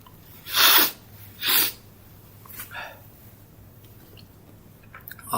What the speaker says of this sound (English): Honest sneeze.